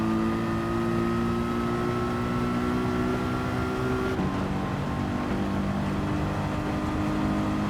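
Mercedes McLaren SLR '09 engine at part throttle in Gran Turismo 7, a steady droning tone holding pitch, then dropping briefly with a shift before settling into a level hum.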